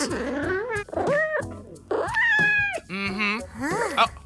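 A cartoon pet cat in a kids' podcast meows repeatedly, a string of clear, close, drawn-out meows with rising and falling pitch, heard alone without talk.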